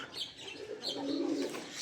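Pigeons coo softly on a village farm, a low, rolling call rising in the middle, with faint chirps around it and no voices.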